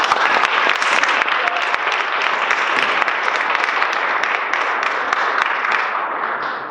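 Audience applause at a town hall meeting, a full, steady round of many hands clapping that stays loud for several seconds before beginning to fade at the end.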